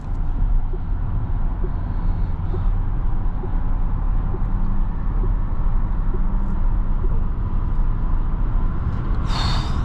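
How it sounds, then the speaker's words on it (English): Winter tires on a Lucid Gravity Grand Touring produce a steady, loud road roar inside the cabin, a constant low rumble with no voices over it. "The only thing you can hear right now is that tire noise"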